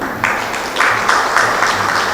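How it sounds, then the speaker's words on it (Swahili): Crowd applause at a Tanzanian public gathering on the fight against corruption, a broad steady wash of many hands clapping in bursts, fairly loud and continuous throughout with no voices. "Naomba tuwapigie makofi mengi sana"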